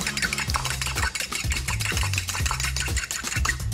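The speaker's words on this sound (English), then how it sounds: "One delicious egg. Give that a little whisk." An egg being whisked into sieved flour and ricotta in a bowl: quick rhythmic scraping and tapping strokes, about two per second, close and moderately loud, with no talk.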